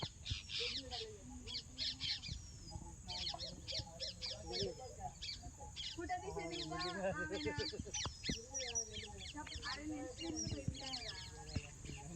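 Birds calling outdoors, with harsh repeated crow caws among other chirps, fairly close, while people talk now and then underneath.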